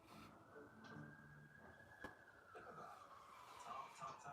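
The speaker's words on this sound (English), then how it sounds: "I hear sirens." Faint emergency vehicle sirens wail in the distance at night, a steady high tone drifting slightly in pitch over low background murmur.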